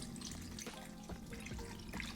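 Water mixed with liquid smoke is poured over ribs as a brine, giving a continuous splashing, trickling pour that runs steadily with a few louder gurgles.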